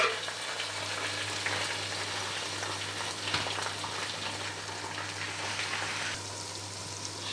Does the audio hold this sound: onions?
yes